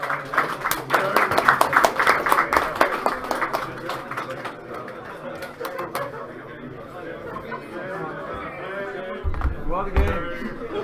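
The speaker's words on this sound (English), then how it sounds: "Applause please." Audience applause and clapping at a game development meetup, a dense burst of many hands in the first few seconds that thins out, with chatter and talking carrying on underneath.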